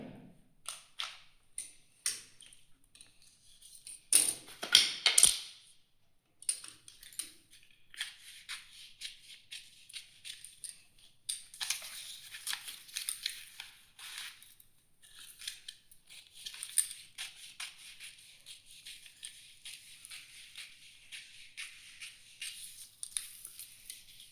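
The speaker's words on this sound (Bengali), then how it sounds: "এইবার এই কাপড়টাকে আমি কেটে দেবো।" Scissors snip through blouse fabric on a tailoring table, a long run of close, sharp crunching cuts in uneven bursts with brief pauses between strokes.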